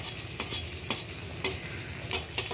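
Malpua frying in hot oil in a pan while oil is spooned over them from the side, giving a steady sizzle with a splashy burst roughly every half second, close and alone.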